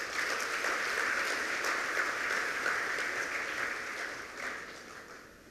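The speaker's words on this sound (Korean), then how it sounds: "여러분 큰 박수로 맞이해주시기 바랍니다" Audience applause rings out at an award ceremony, sustained dense clapping from a large crowd that holds steady for several seconds before tapering off near the end.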